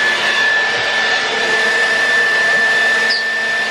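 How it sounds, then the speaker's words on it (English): Small barrel brush hair dryer blowing in a steady, close, even whoosh with a thin high whine, running alone without pause. "So I've just got a little barrel brush hairdryer."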